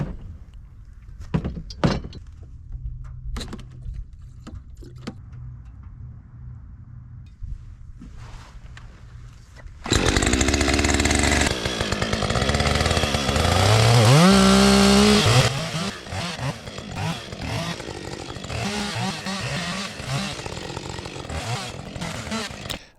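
A Countyline log splitter's small engine starts after a few scattered knocks and thumps, then runs loud and close with a rising pitch sweep as it works, settling into a steady rough idle.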